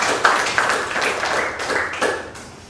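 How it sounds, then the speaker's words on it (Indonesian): A classroom of students claps briefly for a group, a short scatter of hand claps with a few sharper accents that thins out toward the end. "tepuk tangan buat kelompok 3"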